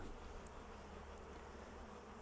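Honey bees buzz steadily around an open hive during beekeeping, a dense, continuous drone that stays low and constant throughout, with no voices.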